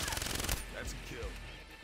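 Rapid automatic gunfire in Call of Duty: Black Ops 3 rattles in a fast burst and then stops, with a few sharp single reports and voices talking afterward.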